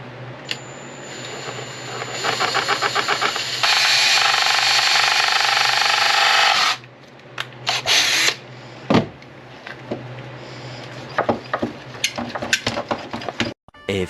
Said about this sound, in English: So we're gonna be drilling out this rivet.